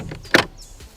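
On a 2014 Audi A1 Sportback with the 1.4 litre TFSI engine, the driver's door is opened with a single short, close latch click and clunk, with no talking.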